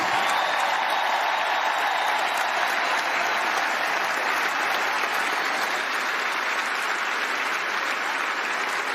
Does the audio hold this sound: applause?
yes